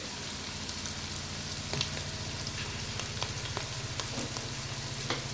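Sliced onions fry in a pan for a chicken curry, a soft, continuous sizzle scattered with small crackles and pops, heard on its own without talk.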